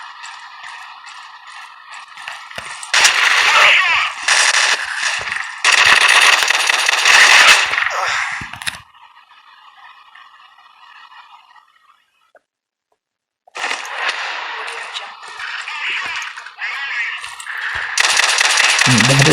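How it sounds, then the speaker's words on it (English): A 1911 pistol fires in the online shooter Strike Team Online, with loud, dense bursts of gunfire in several stretches, broken by a quieter, near-silent gap in the middle. "That is the 1911 when it's firing."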